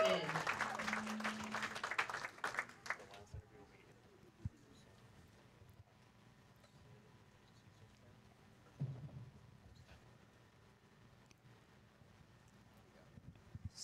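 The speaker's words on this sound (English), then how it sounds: "Give them a huge round of applause." An audience at the 2024 PWBA Bowlers Journal Rockford Open bowling tournament breaks into loud applause for about three seconds, then the clapping fades into a quiet hall with faint scattered knocks.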